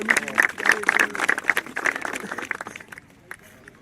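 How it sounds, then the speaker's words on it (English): Youth football all-star players clap together after a game, a loose burst of claps with a few shouts that thins out and fades toward the end. "Clap it up, fellas. Clap it up."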